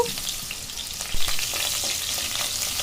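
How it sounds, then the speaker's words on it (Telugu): Onions fry in hot oil in a pan as the base for a mutton curry, giving a dense, continuous close-up sizzle with a brief scrape of stirring partway through. "ప్యాన్ పెట్టి ఆయిల్ వేసి ఆనియన్ దూరగా వేయించుకున్నాను"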